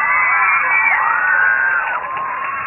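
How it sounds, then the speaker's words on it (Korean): A crowd at a 2005 StarCraft invitational in Busan cheers loudly, with shrill, high voices rising and falling in a sustained roar that eases slightly near the end. "다시 한번 박수 부탁드립니다"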